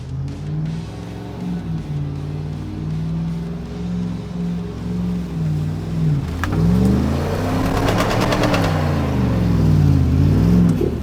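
Off-road vehicle accelerating hard to climb on momentum, engine note rising and falling through repeated revs, louder and rougher toward the end, with no talk over it.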